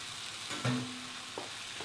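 Mushrooms and peppers fry in oil in a pot under a soft steady sizzle, with a spoon stirring and scraping in a few brief clinks.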